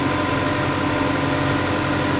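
A tractor engine idles inside the cab, giving a continuous, even low drone with steady vibration and no talk.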